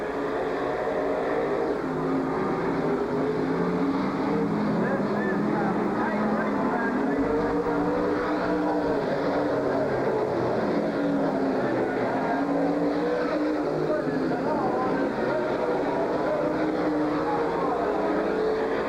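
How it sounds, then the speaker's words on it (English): NASCAR stock cars racing around Silver Spring Speedway, a steady, loud engine roar from the field filling the whole stretch, with a commentator talking over it. "Dale Jarrett not looking too shabby, as is Sterling Marlin going by there in the 41 car."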